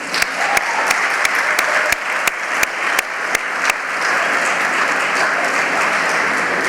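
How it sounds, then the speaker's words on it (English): Audience applause at an MBA chef dinner event on campus, a steady rush of clapping from the room with sharp, regular louder claps from one nearby pair of hands, which stop partway while the crowd keeps clapping. "please let's give them a round of applause"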